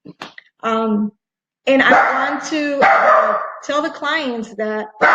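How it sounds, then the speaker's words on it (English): A pet puppy yaps and barks in short bursts near the mic, mixed in with a person talking steadily over and between the barks. "That's my dog who's barking, my puppy."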